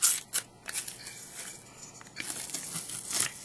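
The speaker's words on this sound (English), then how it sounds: "Now I can take off the tape." Adhesive tape peeled from a homemade soda can stove, a run of quiet, close crackling and tearing rips with a few sharper bursts at the start and end.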